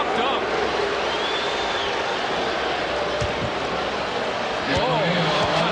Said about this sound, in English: And you hear the reaction from the crowd.